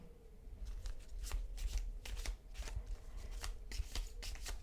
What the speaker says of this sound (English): I really enjoy this shuffling part